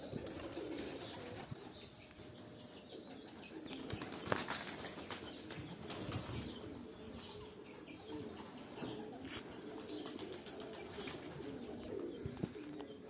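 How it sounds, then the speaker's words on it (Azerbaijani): Homing pigeons flying around a loft, soft cooing and occasional flapping wings over a steady outdoor background, with faint chirps and no talking. "Gördüğünüz gibi kuşlarımız uçur."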